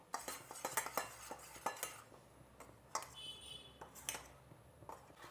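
Ragi flour being stirred into water in a pot with a spoon: faint, quick clinks and scrapes of metal against the pot, repeating in an uneven rhythm.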